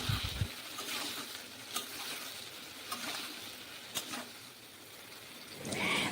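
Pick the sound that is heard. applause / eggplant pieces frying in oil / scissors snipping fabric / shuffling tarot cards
eggplant pieces frying in oil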